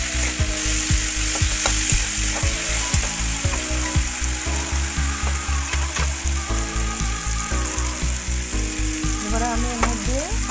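Food frying in a pan with chopped garlic being stirred, a loud continuous sizzle broken by rhythmic scraping strokes of the spatula, close up and without talk.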